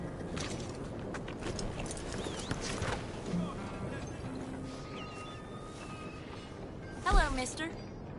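Horse hooves clip-clopping in the Red Dead Redemption 2 game, a steady muffled trotting rhythm under ambient game sound, with a voice speaking and a brief horse snort near the end.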